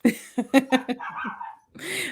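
A little terrier barks indoors in a quick burst of about five short, close yips, followed by a brief pause and a higher whine.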